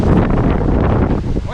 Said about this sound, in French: Oh, ce vent d'un coup.